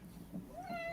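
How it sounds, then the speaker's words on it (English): A pet cat meows during a live online chat, one drawn-out rising meow that swells near the end, fairly faint against a quiet room. "I think we've had multiple cats join in"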